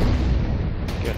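Artillery fire in the World War II strategy game Order of Battle: Blitzkrieg, a heavy rumbling boom that fills the whole moment, low and sustained with a faint crackle trailing at the end.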